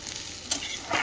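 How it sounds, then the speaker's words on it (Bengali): Cauliflower stems, a few florets and potato pieces fry in a pan, a steady close sizzle broken by two louder bursts as the pieces are stirred. "ফুলকপি ডাঁটাগুলো আমি বলি কি করবো, ভেজে নিই, অল্প ফুলকপিও দিয়ে দিচ্ছি, একটু আলু দিয়েছি, একটু ভাজা হচ্ছে এটা অল্প করে।"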